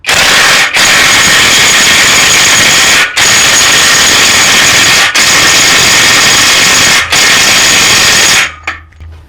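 XAPR AP80PROMAX cordless impact wrench running loud and close in sustained bursts, with four brief pauses between runs before stopping near the end.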